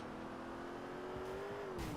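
A stolen police car drives in the video game GTA IV, its engine droning steadily with a rising and falling tone over continuous road noise, loud and alone.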